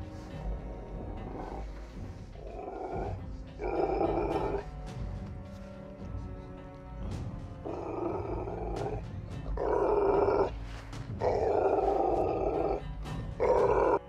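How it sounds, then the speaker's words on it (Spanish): A dog growls in low, rumbling bursts that come and go across the clip, some louder stretches near the end, with no talking. "Nova mira hacia varias direcciones mientras le gruñe a la nada."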